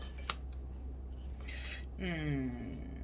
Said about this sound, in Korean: 이 뿌리는 제가 한번 잘라 보도록 할게요